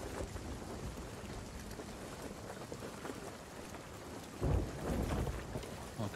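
Thunder and rain in a video game storm as lightning strikes a rowboat, a steady hiss of heavy rain with a deep, louder rumbling crash swelling near the end.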